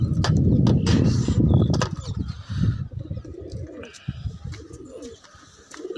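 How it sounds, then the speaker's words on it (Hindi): Pigeons feeding on roti bread, a flock of nesting birds, coo steadily in a close, busy chorus, with louder overlapping cooing at first that thins to softer calls and light fluttering. "देखो कबूतर मेरे कैसे प्यार से खाते हैं।"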